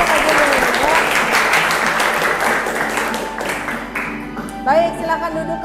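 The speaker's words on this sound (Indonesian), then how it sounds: "silahkan tepuk tangan buat kalian untuk bisa menyanyikan lagu ini" A classroom audience applauds after singing a song, dense clapping that starts loud and thins toward the end, with a few voices rising over it as it fades.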